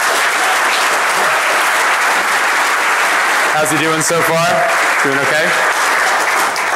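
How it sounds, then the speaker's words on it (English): Sustained applause from a conference audience at a DEFCON hacker convention talk, loud and dense throughout, with a voice speaking over it partway through. "a round of applause for our first time speaker"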